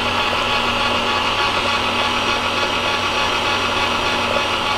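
Electric mixer whirring steadily as it blends fresh sweet potato pie filling until smooth, a loud continuous motor hum with no pauses or voices.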